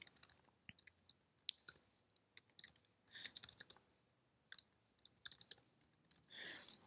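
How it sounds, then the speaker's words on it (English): Someone types on a computer keyboard, with sparse, irregular key clicks and short bursts of tapping, close and quiet. "So I'm going to go ahead and type that in."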